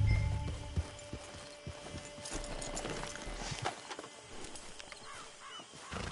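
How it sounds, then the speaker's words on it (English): Horse hooves clip-clop at a steady walk in Red Dead Redemption 2 Online, with ambient outdoor noise and faint bird calls around them. "Hitch your horse."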